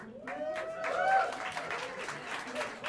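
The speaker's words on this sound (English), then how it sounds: "Have a round of applause for him." An audience at Smalls Jazz Club in New York applauds a pianist after an introduction, scattered clapping mixed with someone speaking over it.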